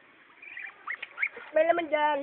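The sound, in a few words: duck quacking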